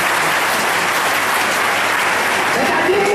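A church congregation applauds loudly and continuously, a dense wash of clapping that fills the whole moment.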